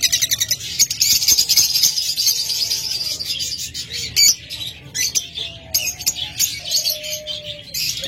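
Caged pet birds, lovebirds and cockatiels, keep up a continuous mix of shrill chirps, squawks and whistled calls at close range, overlapping throughout with a few louder bursts and no talking.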